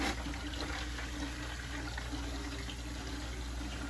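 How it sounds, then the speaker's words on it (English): Wine running through filter tubing and a hose during filtration, a steady close trickle and flow of liquid that holds constant for the whole stretch, with no talking. "now we're going to wait for the wine to go through the tubing, through the filters, and now it's starting to come through the hose"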